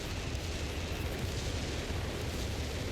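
Artillery shells and explosions in the strategy game Company of Heroes 3, a 4v4 battle on the Mignano Gap map, a steady dense rumble of distant booms and blasts running throughout without voices.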